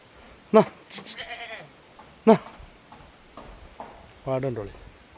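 Several loud goat bleats nearby at a livestock sale, a couple of short sharp calls and a longer wavering one, with people talking quietly in between.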